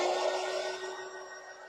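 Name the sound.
hair dryer drying painted craft boots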